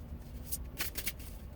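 Tarot cards shuffled by hand in a quiet room, a few soft papery riffles and slides clustered near the middle of a short stretch, fairly faint and close with no voices.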